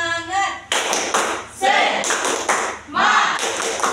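Group of children clapping a rhythmic tepuk semangat chant, sharp bursts of claps in quick patterned sets, with voices chanting along between them.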